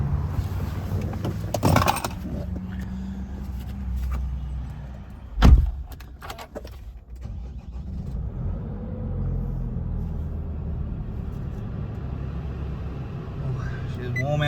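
A car door thumps shut once, sharp and close, as someone climbs into a Nissan Navara ute, followed by a quiet cabin hum and faint rustling inside the vehicle.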